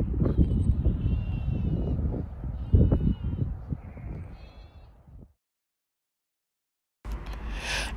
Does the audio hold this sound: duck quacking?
no